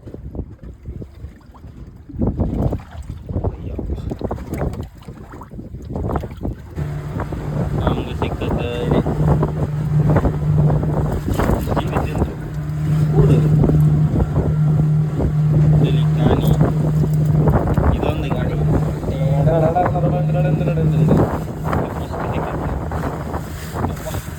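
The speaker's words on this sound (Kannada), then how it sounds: "ಸ್ಪೀಡಾಗಿತ್ತಲ್ಲ ದೋಣಿ" A speedboat races across the open sea, its motor droning loudly and steadily under heavy wind buffeting and spray, with people talking over the noise.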